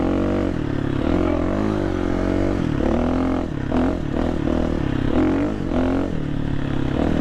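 A KTM 350 dirt bike fitted with a 15/52 sprocket setup on a trail ride, the engine loud and close throughout with rising and falling revs as the throttle opens and closes repeatedly.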